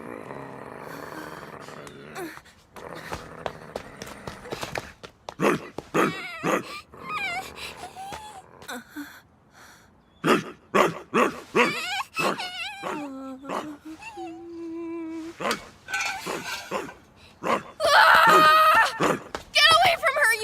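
An anime dog barks and whimpers in short sharp bursts, loud and close, mixed with dramatic voices, a scream and music, with people talking throughout.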